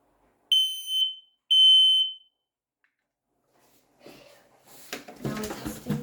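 A home smoke detector sounds during a system test with two loud, piercing electronic beeps about a second apart, then quiet, followed by shuffling and handling noise near the microphone.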